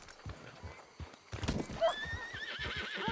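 A horse in the Red Dead Redemption 2 video game clip-clops with soft, regular hoofbeats, then lets out a loud, quavering neigh up close over the steps.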